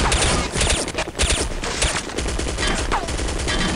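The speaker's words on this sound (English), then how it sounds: "Oh, bombing run." Battle in the Counter-Strike Condition Zero video game during a bombing run: dense, continuous bursts of gunfire and blasts roar loud and close for the whole stretch, with a faint voice briefly underneath.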